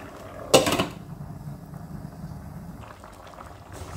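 A pot of kalale (bamboo shoot) palya with green gram simmers and bubbles steadily at low level, with a brief louder clatter near the start before the soft boiling continues alone.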